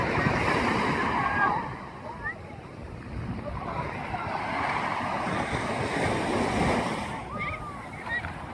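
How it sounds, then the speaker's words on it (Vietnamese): Calm sea waves washing onto Nha Trang beach on a breezy summer afternoon, a continuous soft surf wash with gentle swells and some wind buffeting the microphone. "Thì con này sóng đẹp quá, sóng êm quá vậy ha."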